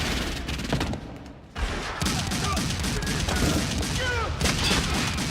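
Rapid bursts of gunfire crack through a shootout scene in the 2024 film The Crow, loud and dense, with a brief lull before the firing resumes alongside echoing impacts and fleeting voices.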